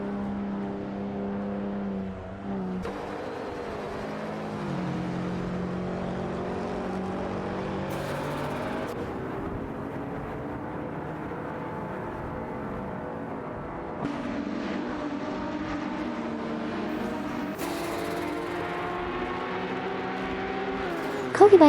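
Race cars, including a Ferrari, roar around a track in a racing video game, engines droning continuously with gear shifts and rising and falling pitch as cars pass, steady and fairly loud.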